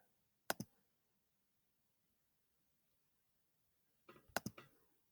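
A computer mouse clicks while shapes are being drawn digitally: one quick double click, a pause of several seconds, then a short cluster of crisp clicks, close and quiet with no talking.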